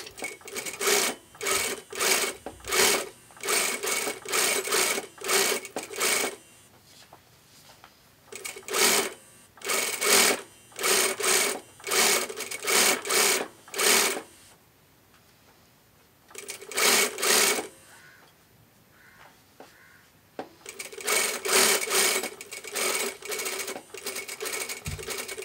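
A sewing machine edge-stitches a folded, unfused shirt placket in several bursts of rapid, steady stitching, each run lasting a few seconds, with brief pauses between runs and a quiet gap in the middle.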